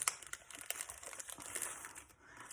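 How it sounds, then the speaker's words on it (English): Crinkly plastic packaging being pulled open for Christmas tree crafting supplies, a busy run of close, bright crackles and rustles over about two seconds with no talking. "I apologize for the crinkling."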